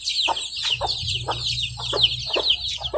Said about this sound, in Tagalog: Yan, mga pasisiw.